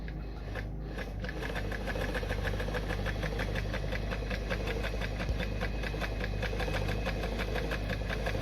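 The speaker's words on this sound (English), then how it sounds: "So when I sew through now, I'm actually sewing the regular straight stitch." A Frister & Rossmann A-Z sewing machine runs a regular straight stitch at a slow, even speed, a steady close mechanical whir with a rapid rhythmic needle beat throughout.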